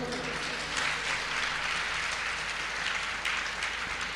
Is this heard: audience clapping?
yes